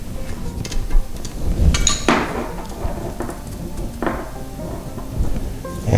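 Plastic toilet tank bolts are tightened at the base of a toilet, making irregular close knocks, scrapes and clicks of plastic and tools in a small room, with no talking.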